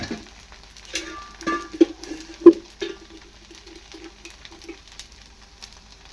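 Dosa cooking in oil on a pan, with a soft steady sizzle and crackle, a few louder clanks or scrapes of a utensil around the middle, then quieter frying alone.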